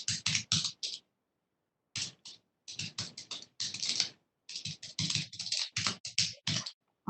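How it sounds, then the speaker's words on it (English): Bursts of rapid keystrokes on a computer keyboard, close and crisp, coming in clustered runs separated by short pauses, with no talking. "Okay, so I'm going to type this."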